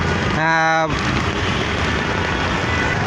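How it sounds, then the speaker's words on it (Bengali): Heavy rain falls at the Shahbag intersection in Dhaka as a constant broadband hiss, with a short vehicle horn blast near the start. "ভরপুর আকারের বৃষ্টি হচ্ছে"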